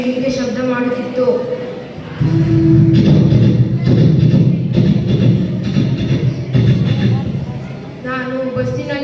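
A human voice imitates a passing train, a steady chugging rumble with rhythmic pulses that runs for several seconds, loud and close, with brief plain voicing before and after.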